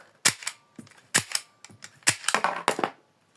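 A toy Glock 18 pistol fires a string of sharp snapping clicks, some paired, with light plastic rattles between them as two shells at a time are ejected.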